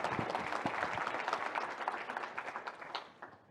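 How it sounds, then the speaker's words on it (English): A conference audience applauds the contestants on stage, with distinct claps forming a lively, fairly loud ovation that gradually thins and fades toward the end. "let's have a final round of applause for our contestants"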